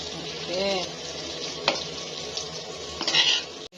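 Fried rice stir-fried in a pan at home, with steady sizzling and frying, a spatula scraping and clinking against the metal, and a louder clatter of stirring near the end.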